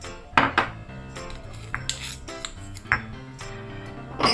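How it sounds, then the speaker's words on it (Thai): Thai curry paste is worked together with shrimp paste in a mortar, giving irregular sharp clinks and knocks of the pestle against the bowl, close and fairly quiet, with no talking. "เอาพริกแกงผสมในครกเลยค่ะผสมกับกะปิเขาจะได้เข้าเนื้อกันดีนะคะ"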